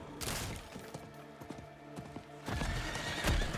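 Horse in the Diablo 4 video game, its hooves clip-clopping steadily and close, with a loud neigh near the end over a busy background.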